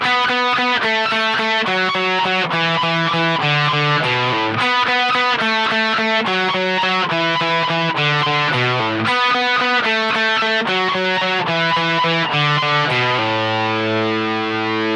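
A distorted electric guitar plays a rock song riff phrase three times in a row, loud and rhythmic, with no voice over it.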